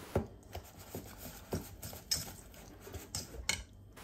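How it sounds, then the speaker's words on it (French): Ingredients for a zucchini and parmesan pancake batter stirred together in a bowl, with soft scraping and clinking taps of the utensil against the sides at an irregular rhythm, close and fairly quiet. "Je mélange bien le tout ensemble."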